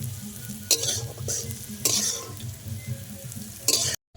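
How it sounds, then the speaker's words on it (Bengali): Capsicum and peas sizzle and fry in a pan with steady crackling, while a utensil scrapes and stirs them in several rough strokes, close up. "মটরশুঁটির সাথে ক্যাপসিকাম ভেজে নেব"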